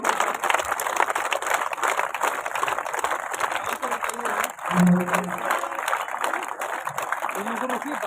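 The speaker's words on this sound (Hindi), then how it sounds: "तालियां तेज होती रहनी चाहिए" Broad, steady clapping from a crowd fills the whole stretch, with a brief tonal sound rising near the middle.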